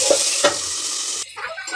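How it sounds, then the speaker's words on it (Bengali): Potatoes salted and frying in oil over low heat in a partly covered pan give a steady, close sizzle, with a couple of brief stirring scrapes near the start and a softer, uneven crackle toward the end. "আলুগুলো ভেজে নেব আলুতে লবণ দিয়ে দিয়েছি আর হালকা আঁচে ভেজে নেব ঢেকে ঢেকে"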